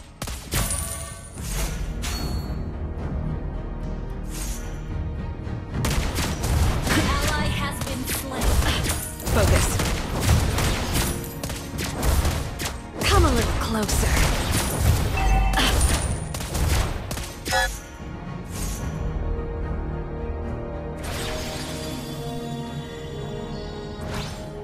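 Sniper gunshots in a mobile battle arena game: repeated sharp cracks and bursts of gunfire mixed with game effects and music, with a voice talking between shots.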